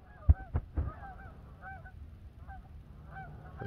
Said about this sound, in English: there's a whole flock of geese flying right there. I just heard them coming in